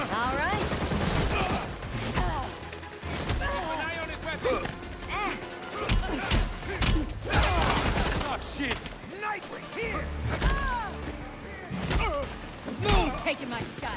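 Rapid gunfire in the video game Gotham Knights crackles in dense volleys with sharp impacts and crashes over about fourteen seconds, loud and close, mixed with game voices and effects.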